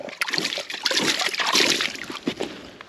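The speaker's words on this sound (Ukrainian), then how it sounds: "Зараз буквально трішки води додамо і буде бімба." Water is poured into dry fishing groundbait for crucian carp feeder fishing and mixed in by hand, making loud, close wet splashing and sloshing in irregular bursts.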